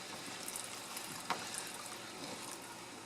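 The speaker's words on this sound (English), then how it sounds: "Let's go ahead and add some hot water, just enough to cover it" Hot water pours over rice in a pot for a Puerto Rican rice dish, a soft steady trickle with one brief splashy accent, quiet and close with no talking.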